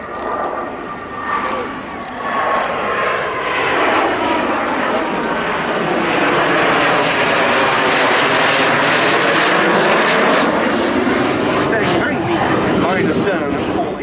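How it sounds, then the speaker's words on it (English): Pair of BAC Strikemaster jets with uprated Rolls-Royce Viper turbojet engines flying past at an air show at RNAS Yeovilton, a loud sustained roar rising and sweeping as they pass, with a commentator talking over it. "They fitted an uprated version of the Rolls-Royce Viper turbojet engine"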